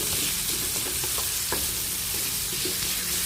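Onion and tomato sizzling in a hot pan, a dense, continuous frying hiss with occasional small crackles and stirring taps, steady and fairly loud with no talk.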